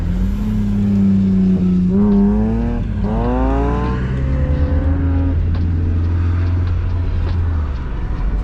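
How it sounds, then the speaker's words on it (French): Mazda MX-5 engine revving steadily while warming up before a drift session, with rising and falling harmonic sweeps from the idle drone through several revs, close and loud, no talking. "Faire chauffer la voiture un peu."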